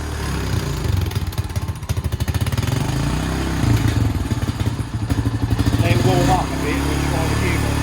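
A crash-damaged Honda 350cc 4x4 quad bike engine runs close by with a rough, loud, pulsing idle and brief throttle rises, while people talk over it.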